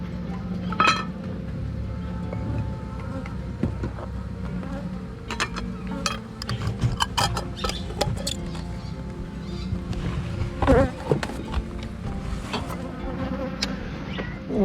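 Swarm of bees buzzing steadily at a hive fitted with plastic frames on a farm in Far North Queensland, the insect drone close and continuous with occasional clinks and knocks of handling.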